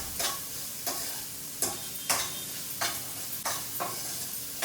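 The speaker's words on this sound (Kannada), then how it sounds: "ಚೆನ್ನಾಗಿ ಫ್ರೈ ಆಗೋವರೆಗೂ, ಗೋಲ್ಡನ್ ಕಲರ್ ಬರೋವರೆಗೂ ಫ್ರೈ ಮಾಡ್ಕೊಳ್ಳಿ." Paneer and mushroom frying in a pan until golden, a steady sizzle with a spoon scraping and stirring at regular intervals, about six strokes, close and clear with no talking.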